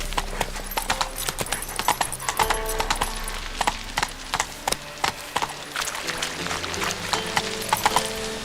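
The horse Roach gallops in The Witcher 3, a fast, steady clip-clop of hooves with rhythmic thuds, close and prominent throughout.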